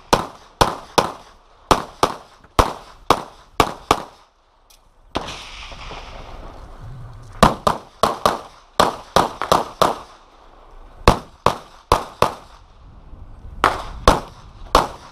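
Sharp, loud gunshots ring out in rapid strings at an outdoor USPSA practical shooting match in hot weather, with a pause midway filled by rustling and movement before the volleys resume.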